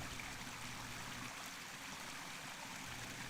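Rushing floodwater pours down a ravine in the Pyrenees after a short burst of heavy rain, a steady, dense broadband roar with no pauses, close and loud throughout.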